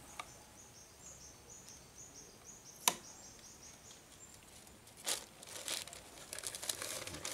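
Packing tape is pulled and pressed to seal a paper cover, with a few sharp crinkling rips and a louder tearing burst near the end, close up over faint insect chirps outdoors.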